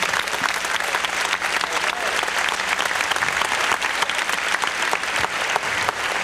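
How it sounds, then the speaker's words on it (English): A church congregation at a 1989 gospel singing claps loudly in sustained praise applause, with dense hand clapping throughout and faint voices mixed in. "Give the Lord another hand clapping praise,"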